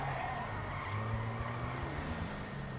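An off-road vehicle in Grand Theft Auto V revs hard with a loud, continuous engine drone and tire noise that holds steady for the whole stretch, with no talking.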